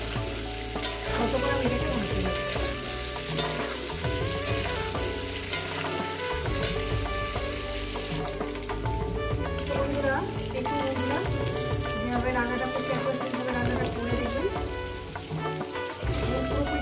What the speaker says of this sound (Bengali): যতক্ষণ না পটল আর সুন্দর করে ভাজা হয়ে যাচ্ছে